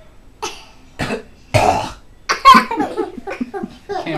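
A young girl coughs repeatedly in short, separate bursts, trying to cough something out of her mouth. Several harsh coughs sound close by, with a few quieter throaty sounds between them.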